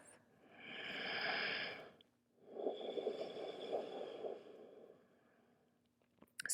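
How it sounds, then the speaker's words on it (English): Two slow, deep breaths, one inhale and one long exhale, are taken close up during a yoga child's pose in a quiet home setting. No one speaks. "Taking 3 rounds of deep breath."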